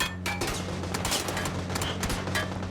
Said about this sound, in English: That is the sound of gunfire and bullet rain.